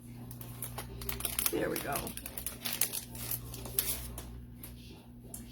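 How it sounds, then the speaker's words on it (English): A cellophane envelope crinkles and rustles in sharp, irregular bursts as an item is worked free of it, close up, with a person speaking briefly over the noise. "I'm struggling to get this out of its cellophane envelope."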